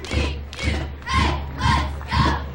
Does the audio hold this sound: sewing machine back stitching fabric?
no